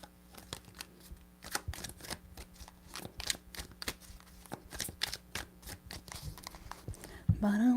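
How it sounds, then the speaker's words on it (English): A deck of tarot cards is shuffled by hand at close range, a run of quick riffling snaps and slaps in uneven bursts, ending with a short voice. "3 shuffles."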